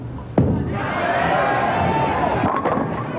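A huge standing-room-only crowd at a bowling tournament at Carolier Lanes, North Brunswick, New Jersey, roars in sustained cheering and applause for about three seconds, loud and steady after a sharp onset, with faint voices mixed in.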